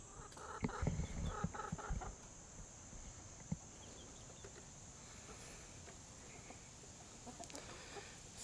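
Young hens cluck softly in short bursts, louder at first then quieter, over a faint steady background hiss.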